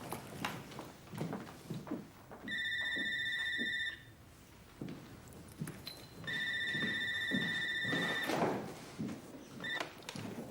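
An old-style telephone rings in two long electronic bursts with a short final chirp, fairly close in a quiet room, with faint shuffling and movement around it.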